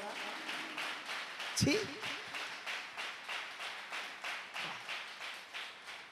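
A church congregation at a Sunday service claps in a steady rhythmic beat, roughly two claps a second, moderately loud and sustained across the whole stretch, with one sharper knock partway through.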